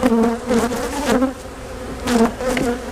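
Bees buzz thickly around an opened, over-wintered hive, their wavering drone rising and falling close by, with individual insects swelling past in loud pulses.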